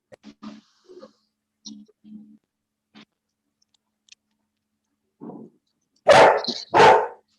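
A pet dog barks twice, loud and close, after a run of softer scattered yelps and scuffling sounds in an otherwise quiet room.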